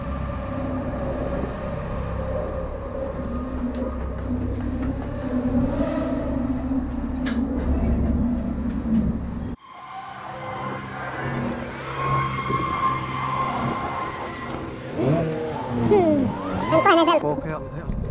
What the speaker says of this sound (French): Il y a une McLaren qui rentre.